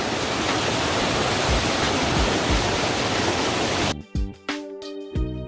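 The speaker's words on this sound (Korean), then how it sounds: "계곡에 물이 엄청나게 흐릅니다." Water rushes loudly through a mossy mountain valley stream in Korea's Jangjeon moss valley, tumbling between moss-covered rocks and trees. A close, constant roar runs for about four seconds, then cuts abruptly to music.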